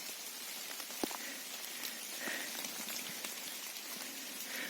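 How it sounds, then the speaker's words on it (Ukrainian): Steady rain pattering on leaves and ground in a Carpathian forest, a soft continuous hiss with scattered individual drops, moderately quiet and even. "Дощ паде"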